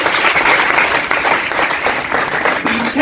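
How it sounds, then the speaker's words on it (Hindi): Loud, steady applause from an audience of students at a college award ceremony honoring meritorious students, dense rapid clapping up close with scattered voices in the hall. "आप अपने इस इंस्टीट्यूट के डायरेक्टर और मेरे बड़े प्रिय अनुज राजन सिंह के लिए जोरदार तालियां।"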